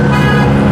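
A car horn blares in one loud, sustained, steady honk that lasts the whole short moment, close and dominant over faint street noise.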